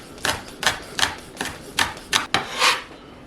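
A knife slices green onions for coleslaw on a cutting board, about seven crisp chopping strokes in an uneven steady rhythm, close and clear with no talking.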